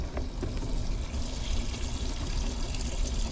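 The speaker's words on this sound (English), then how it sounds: "And now let's get the water in here and let's get it started." Water pouring steadily into a container for off-grid homemade-soap washing, a continuous gurgling, splashing flow heard close, with no talking.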